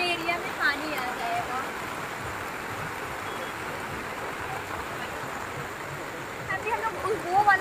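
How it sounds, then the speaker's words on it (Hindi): Steady rain falls by the Ganga river during flooding, a continuous even hiss of water close by with no distinct drops standing out. "अभी भी बारिश हो रही है"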